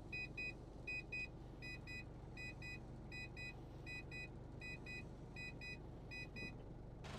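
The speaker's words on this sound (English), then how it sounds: "As you can very annoyingly hear, this thing does still beep at you and it lets you know that it's going down." Warning beeps from the powered roof of a Mazda Bongo Friendee camper van as it lowers, sounding as evenly spaced double chirps over a low steady hum, close and clear.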